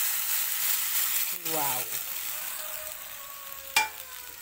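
Water poured into a hot pan of frying food for a curry broth hisses into a loud steady sizzle close by, with a brief spoken exclamation and a clack near the end.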